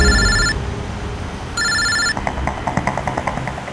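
A telephone rings in two electronic warbling bursts near the start, loud and alone with no talking, followed by a softer run of rapid beeping tones.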